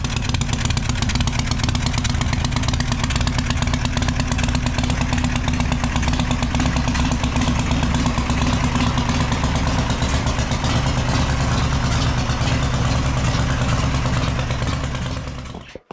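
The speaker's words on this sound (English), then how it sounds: "we've had this running. I'll put the sound here right now." A custom Harley-Davidson FXR with a Knucklehead engine runs loud and close, a steady, throbbing, clattering idle that holds for about fifteen seconds before cutting off abruptly.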